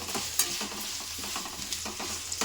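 Vegetables, including capsicum, frying in a pan for lemon rice, with a constant close sizzle and repeated quick scraping stirs of a spoon against the pan, alone and with no talk.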